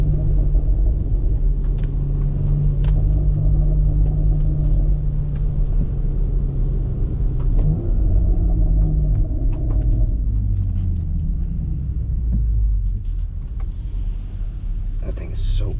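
A BMW X3 M fitted with a single midpipe exhaust drives in the rain, its engine a steady low rumble with slight shifts in pitch, heard up close from inside throughout with constant road and rain noise.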